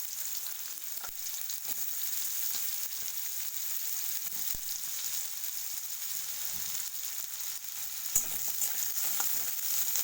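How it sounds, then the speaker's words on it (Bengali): Chopped onion and potato frying in hot oil, a continuous bright hiss and crackle that stays even throughout, with faint scattered clicks and no talking. "আমি প্রথমে পেঁয়াজ কুচিগুলো আর আলু কুচিগুলোকে ফ্রাই করে নেব"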